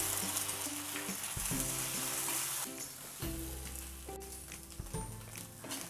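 Eggs frying with sautéed onion masala for egg podimas, a broad hiss of sizzling over a continuous low hum and occasional clinks and scrapes, no talking.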